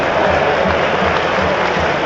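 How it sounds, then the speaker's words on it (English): Visiting Aldershot Town supporters cheer at Roots Hall during a Southend United football match, a loud, steady roar of crowd noise that fills the whole moment without a break. "That's the cheer you can hear for the 295 who made their way round the M25 to come to Roots Hall"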